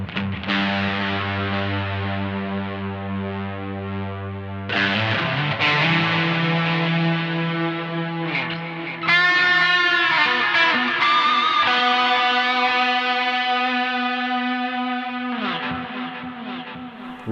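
Electric guitar played through a Strymon Volante pedal set to distortion, sustained chords ringing out with echo and a thick saturated tone, a new chord struck every few seconds, loud and close with no talking.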